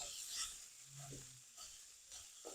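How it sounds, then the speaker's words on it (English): Pork sausage meat with garlic sizzles in a hot pan, a faint, steady hiss with occasional stirring and scraping sounds, heard alone without talk. "You can hear that pan sizzle."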